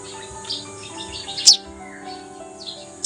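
A baby bird gives short, high chirps close by, a few brief calls spaced over a quiet moment.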